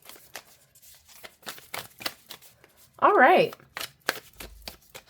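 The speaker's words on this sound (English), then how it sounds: "And overhand shuffle is nice too." A Soluna Tarot deck gets an overhand shuffle, giving one short, loud burst of papery flicking in the middle, framed by soft clicks of card handling and a person talking quietly.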